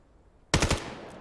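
Gunfire in the video game Vail: after near silence, a sudden close burst of three or four rapid automatic shots rings out, followed by a lingering reverberant tail.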